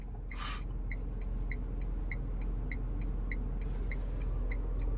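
A Tata Punch pulls away on a brick road as the clutch is slowly released: a steady low engine rumble with evenly spaced ticking clicks and a brief hissing burst at the start, no talk.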